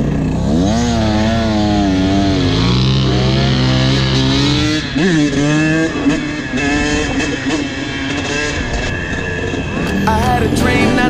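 Motorbike engine on a ride in Utah, loud and close, with the pitch rising and falling through repeated revs and gear changes over steady wind rush.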